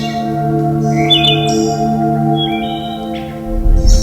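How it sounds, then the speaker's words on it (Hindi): Birds chirp and call in the misty hills of Netarhat, several short bright tweets coming and going over a steady tonal hum in the background. "सुबह की धुंध में पक्षियों का कलरव"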